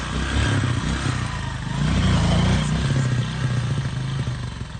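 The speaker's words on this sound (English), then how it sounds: "While commercial motorbikes are forced to drop off their passengers to ease movement." Commercial motorbikes labour along a muddy, deeply potholed road, their mid-pitched engines revving and droning close by with some rattling and clatter, swelling and easing over a few seconds.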